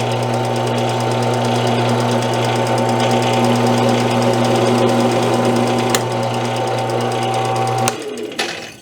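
A drill drives a Hougen RotaCut hole cutter freehand through sheet metal, a loud steady motor drone with a fast chattering buzz that runs for several seconds, then breaks off abruptly as the cutter punches through.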